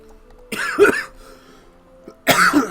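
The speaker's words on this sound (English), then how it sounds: "Sorry for the coughing." Two harsh, throaty coughs ring out close by, spaced well apart, each a short burst with quiet in between.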